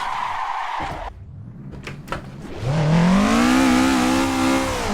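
Car engine revving hard in a drifting game challenge, a loud rising engine tone sweeping up and holding steady after a short lull with brief clunks, with faint tyre scrub beneath.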